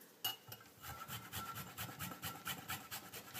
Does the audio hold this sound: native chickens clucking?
no